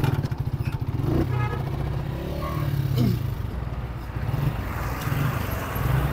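A motorcycle carrying two riders labours along a rough, broken mountain road toward Jheel Saif ul Malook, its low engine thrum rising and falling, with clatter and scraping from the bumpy surface.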